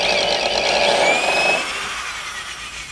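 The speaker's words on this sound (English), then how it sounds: "So let's start the drill in the hole." A power drill bores into a wall cavity through a pre-drilled hole with a loud, close grinding whine that rises in pitch, then eases to a lower, quieter rasp for the last second or so.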